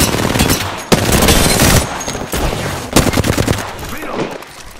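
Gunfire in Apex Legends rattles in loud, rapid automatic bursts with sharp individual cracks, close and punchy, tapering off toward the end.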